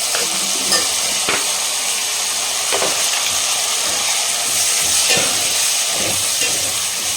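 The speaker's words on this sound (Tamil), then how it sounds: "அடுப்பு ஹை ஃப்ளேம் வச்சுட்டு பேஸ்ட்டு அரைச்சி வச்சுருக்கிற டொமேட்டோ சேர்த்தாச்சு." Ground tomato paste sizzles and spits in a pan over a high flame, a loud, steady frying hiss with occasional faint stirring clicks, no voices.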